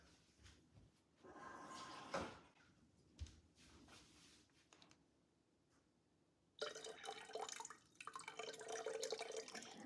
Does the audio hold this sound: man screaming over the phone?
no